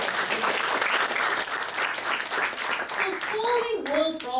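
Audience applause at a live talk-series event, a dense steady wash of many hands clapping at close range throughout, with a voice starting to speak over it near the end.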